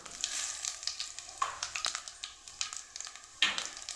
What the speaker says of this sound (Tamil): எங்கிட்ட சீரகம் போட்டேன் சீரகம் பொறிஞ்சிருச்சு